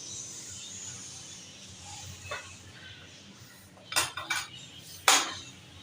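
Metal utensils clink against a dish while murgh cholay is served, a few sharp close clinks near the end over a quiet kitchen background, no talking.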